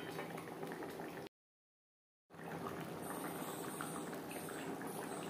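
Silver carp pieces and fish head simmering in gravy for a Bengali ol (yam) curry, a steady close bubbling and burbling that cuts out completely for about a second midway before resuming.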